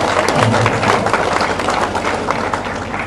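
A crowd at a Congress party office gathering in Patna claps steadily, a dense, loud wash of applause that holds for the whole stretch with no talk over it.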